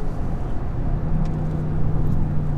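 A 2016 Overfinch Range Rover SVR on the move, its engine giving a steady, low drone heard from inside the cabin, with road rumble underneath and no talking.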